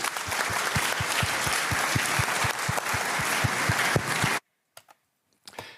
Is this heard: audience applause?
yes